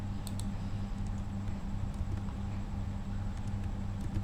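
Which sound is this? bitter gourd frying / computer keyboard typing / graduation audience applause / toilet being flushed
computer keyboard typing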